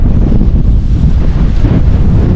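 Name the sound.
strong wind blowing outdoors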